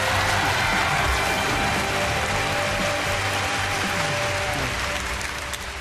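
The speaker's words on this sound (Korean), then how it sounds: "엄홍길 대장님의 강연 뜨거운 박수로 청해 주시기 바랍니다." Dense, loud applause from a youth concert audience welcomes a mountaineer's lecture, a continuous crowd-wide wash of clapping that stays steady throughout and eases slightly at the end.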